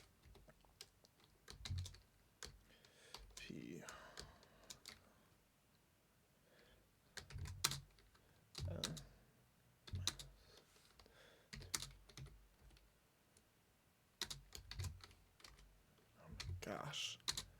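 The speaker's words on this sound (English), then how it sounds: "I'm typing it exactly how they had it in the email." Typing on a computer keyboard comes in quiet bursts of rapid clicking with pauses between them, while a person murmurs now and then.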